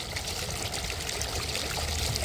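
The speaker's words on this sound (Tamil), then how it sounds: "நல்ல ப்ரெஷரோடய தண்ணி வந்துட்டுருக்கு" Water gushes steadily under good pressure from the delivery pipe of a serviced 1700W BLDC pump, a dense continuous splashing rush without pause.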